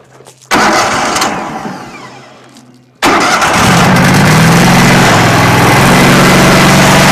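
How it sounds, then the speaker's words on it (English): A 2012 Toro BC25 engine cranks briefly and pauses, then catches and settles into a loud, steady close-up run with a constant mid-pitched drone. "We're going to fire it up here, show you that it starts, runs, and works."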